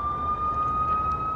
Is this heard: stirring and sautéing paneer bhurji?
no